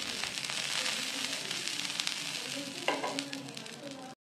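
Vetki fish pieces frying in hot oil in a pan for vetki paturi, a loud steady close sizzle and crackle with a brief burst of spattering near the end before the sound cuts off.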